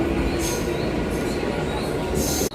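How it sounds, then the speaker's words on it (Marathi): A train arriving at a station in Dadar rumbles steadily close by with bursts of high metallic squeal from the wheels, a constant loud rolling roar throughout. "आता आपली पण ट्रेन आली"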